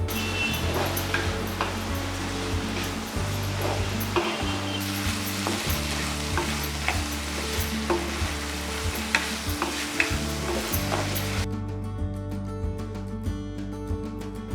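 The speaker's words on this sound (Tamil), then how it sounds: "அதுக்கப்புறம் வெட்டி ஊற வச்ச பாகற்காயை போடுறேன்." Soaked, chopped bitter gourd fries in oil while being stirred, making a loud, close and continuous sizzle with frequent scraping and tapping of a spoon, over a steady humming tone in the background.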